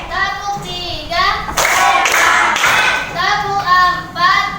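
In a classroom clapping game, children chant together and clap in counted bursts, the claps dense and close between rhythmic voices.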